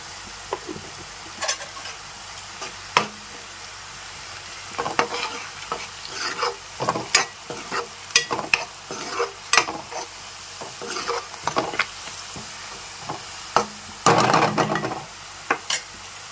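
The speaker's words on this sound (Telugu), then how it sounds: "ఆనియన్స్ కొంచెం మగ్గిపోయాయి కదండి, ఇప్పుడు మనం పసుపు వేసుకుందాము." Onions frying with turmeric in a pan, stirred steadily with repeated scraping knocks over a continuous sizzle, close and fairly loud, with a denser burst of stirring near the end.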